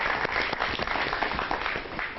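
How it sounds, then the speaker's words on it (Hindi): An audience at a Hindi poetry gathering breaks into a short, dense burst of applause, steady and moderately loud throughout. "तालियां"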